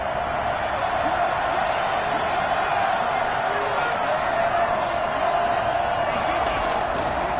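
Dense stadium crowd roar at an NFL game, Buffalo Bills at Arizona Cardinals in overtime, a steady loud wash of cheering and noise throughout, with an announcer's voice faintly woven in.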